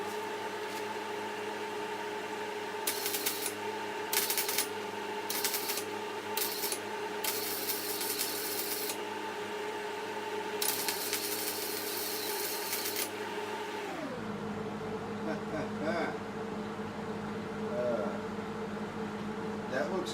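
A Hobart Handler 140 welder lays a weld pass. Bursts of harsh crackling and sizzling come on and off over a steady electrical hum for about ten seconds before the hum drops away.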